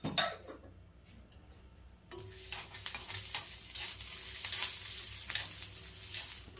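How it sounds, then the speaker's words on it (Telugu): Ghee heats in a pan with onions and garlic for garlic powder. Near silence gives way after two seconds to a lively close sizzle broken by crackles and stirring clatter. "కొద్దిగా నెయ్యి వేస్తున్నాను వేగేదానికి."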